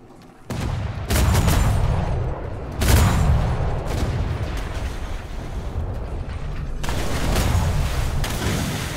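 Ship cannons fire in naval combat in the game Atlas, sounding as heavy booming volleys that come in bursts, with a sustained rumble of gunfire and explosions rolling on between the blasts.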